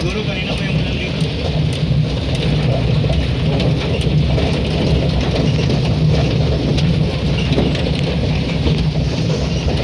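Steady, dense heavy rain pours continuously on a mountain, a broad hiss with a low rumble beneath, loud and unbroken throughout.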